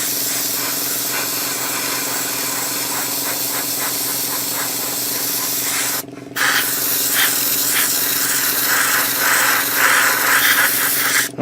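An airbrush sprays light mist coats of grey paint onto a 1/35 scale Takom Chieftain Mk10 tank model, a loud steady hiss with a compressor hum underneath, cut by one brief pause before spraying resumes with pulsing bursts.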